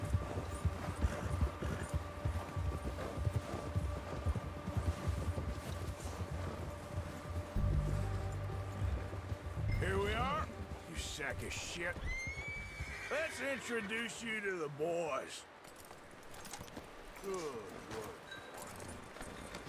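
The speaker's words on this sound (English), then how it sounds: "All right, it looks like we gotta mount the horse here." A horse in Red Dead Redemption 2 gets mounted and ridden, with a loud whinny mid-way and rhythmic clip-clop hoofbeats, under game music and someone talking over much of it.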